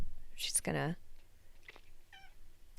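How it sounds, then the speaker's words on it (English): A house cat meows in short, bright calls indoors, the clearest one early, followed by a later, fainter mew, close to the listener with quiet room tone in between. "My cat is here."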